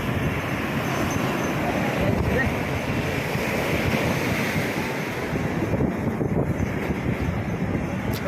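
Sea waves roll and break on the beach at Digha in a steady, loud wash of surf, heavily buffeted by wind across the microphone throughout.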